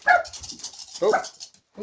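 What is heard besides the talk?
dog barking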